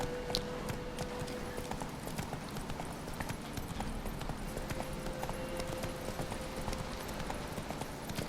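Horse hooves gallop in a steady, rapid clip-clop rhythm while riding in The Witcher 3: Wild Hunt, sounding close and continuous over an ambient game background with no talk.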